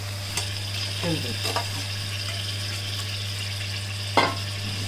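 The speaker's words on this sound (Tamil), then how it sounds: "தக்காளியும் நல்லா வதங்கட்டும். நல்லா வதங்கிடுச்சு." Tomatoes and onions sauté in a pan while chicken thokku is being prepared, giving a steady close sizzle with occasional stirring scrapes, over a constant low hum.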